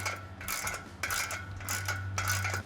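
A ratchet snugs an exhaust clamp on a 4Runner MBRP cat-back muffler install, giving four quick bursts of close clicking at a steady rhythm over a low constant hum, with no talking.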